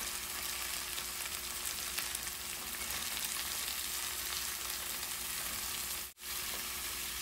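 Washed cabbage and soaked moong dal frying in a pan, a steady close hiss and sizzle running continuously with a brief dropout near the end.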